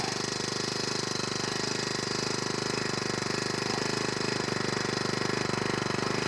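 A long-unused engine, pulled out of a pole barn for food plot work, idles while warming up, a close, loud and steady rapid chugging pulse with no pauses.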